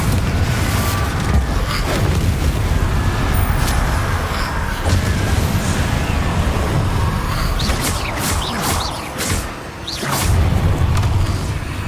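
Repeated booming blasts from Confringo and Bombardo explosion spells in Hogwarts Legacy, a string of heavy thuds and whooshes over a dense, loud battle background.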